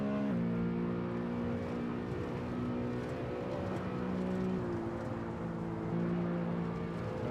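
Engine of a BMW E92 M3 on semi-slick tyres during a hot lap of the Nürburgring, a steady loud in-car drone whose pitch steps and dips as the driver lifts and brakes, with no talking.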